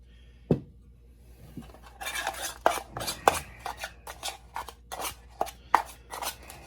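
A spoon scrapes and stirs a thick chicken curry gravy with a little water in a field-ration pot, making sharp repeated clinks and wet scraping in quick irregular bursts after a single opening knock.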